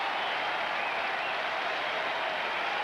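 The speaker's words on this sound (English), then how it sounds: "Crowd trying to help Derek out of this inning." Steady applause from a stadium crowd at a Dodgers vs Red Sox baseball game, a dense, even roar of clapping that holds for a few seconds without a break.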